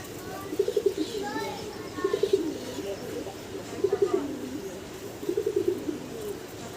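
Fancy pigeons coo in four repeated rolling bursts at moderate volume, each a short run of throaty pulses, with faint background chatter and ambient noise between them.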